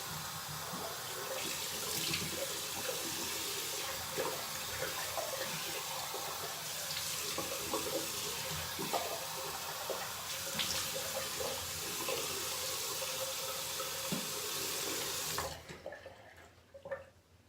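A bathroom tap runs steadily into a sink for a long stretch while someone rinses off mid-shave, with small splashes over the flow, then the water cuts off near the end leaving quiet room sound.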